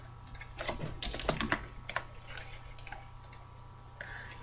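Light, quick typing on a computer keyboard, clusters of clicks in irregular bursts that thin out toward the end, fairly close and quiet over a low steady hum.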